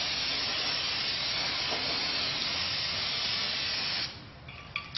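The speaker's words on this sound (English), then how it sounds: "Spray this down, give it a little bath," An aerosol can of brake cleaner gives rear brake parts a thorough soaking, with a continuous loud hiss for about four seconds. It then stops, leaving faint clinks and handling noises.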